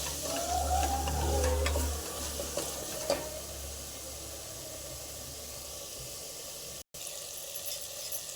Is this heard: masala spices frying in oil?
yes